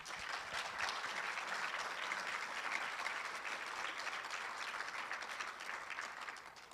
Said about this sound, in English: Let's give a Texas-sized applause to our two NAE inductees.